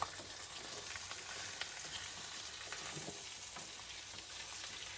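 Mutton frying in a pan with green chillies and curry leaves stirred in, a constant moderate sizzle with light scraping from the stirring spoon, no voices.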